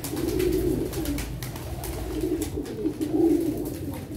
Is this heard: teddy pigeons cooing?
yes